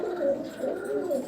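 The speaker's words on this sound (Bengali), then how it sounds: "এইটা হচ্ছে আমার বাড়ির একটা বাচ্চা পায়রা" A baby pigeon kept at home in a cage coos softly and continuously at close range, a low, steady murmur with no voices over it.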